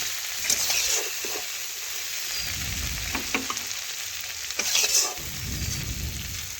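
Softened onion and tomato fry in oil in a kadai, a continuous close sizzle broken by scraping stirs and clinks as the pieces are lifted out of the pan.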